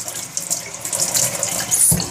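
Tap water runs into a sink to rinse something off during goat milk soap making, a close, steady splashing flow with no talk.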